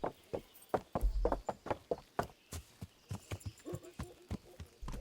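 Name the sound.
horse hooves walking in Kingdom Come: Deliverance video game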